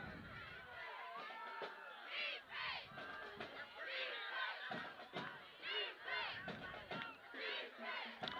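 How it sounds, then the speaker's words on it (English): Osceola Seminole fans cheer at a night high school football game against the Hoxie Mustangs, a steady crowd roar with shouts and whoops rising and falling throughout. "We got a heck of a crowd here from Osceola tonight."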